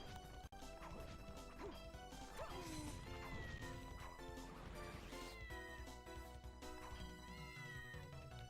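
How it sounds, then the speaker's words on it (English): A cat meows in the Castlevania: Order of Ecclesia video game, a short mew standing out above dense game music with crashing hits and sound effects, no voices. "Oh, there's a kitty cat around here."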